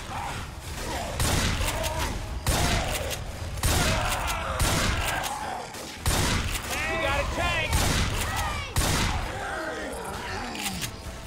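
Rapid bursts of gunfire fill a Left 4 Dead 2 custom map, Land of Oblivion, with loud repeated volleys roughly every second or so and voices talking underneath throughout.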